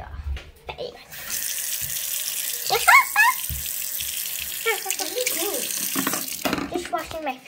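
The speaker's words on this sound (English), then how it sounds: "Just washing my face, a little clean up." A tap runs into a sink while a face is washed, giving steady close rushing water with splashes and brief voice-like sounds over it.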